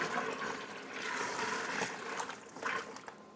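Water pours from a bucket over filament spools, a steady broadband splashing and gushing that swells and dips for several seconds, heard up close with no talk.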